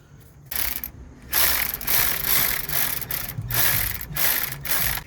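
A hand ratchet tightens the 14mm starter bolts on a 2001-2005 Honda Civic with a manual transmission, making several close, loud bursts of rapid clicking separated by short pauses.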